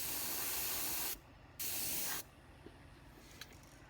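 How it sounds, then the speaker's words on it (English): Two bursts of loud, steady airbrush or spray-can hiss as paint is sprayed onto a fishing lure, separated by a short pause, then a quiet room with faint small clicks. "I'll spray the red out."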